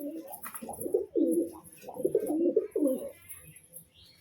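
Pigeons coo in low, throaty, rolling bursts close by while being fed, with several overlapping calls and faint chirps above.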